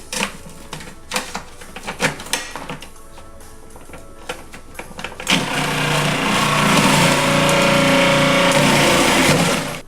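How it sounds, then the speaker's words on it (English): A food processor shreds pieces of ginger and horseradish: rattling knocks and clatter while loading, then the motor starts and runs as a loud, steady grinding whir, close and with no voices. "So we're going to start processing these and shredding them."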